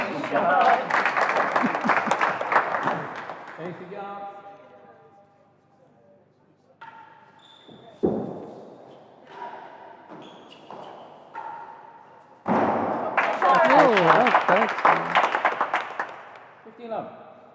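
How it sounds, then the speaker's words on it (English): Bursts of crowd applause and cheering at a real tennis women's singles final, at the start and end, with quieter gaps of scattered ball knocks and tones between them. "there's a roar erupted at Seacourt for Tara there"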